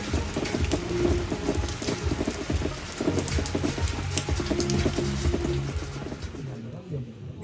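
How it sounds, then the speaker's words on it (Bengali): Sudden steady, dense rain pattering on a surface throughout, heard from a homestay dining area on the Silk Route near Zuluk and Aritar, with faint low rumbles and some indistinct voices underneath. "হঠাৎ করেই কেমন বৃষ্টি শুরু হয়ে গেল দেখুন।"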